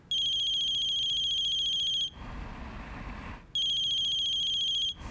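A phone rings on an outgoing call, two bursts of a steady high electronic ring tone separated by a pause with faint room noise.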